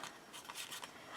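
Paper is cut for a homemade recipe book, with faint, brief rustling snips from scissors at close range over a quiet background.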